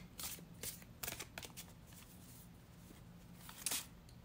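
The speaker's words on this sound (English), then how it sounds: "Give it another shuffle." Tarot cards being shuffled by hand, quiet close-up riffles and soft slaps arriving in several short bursts separated by pauses, with no talking.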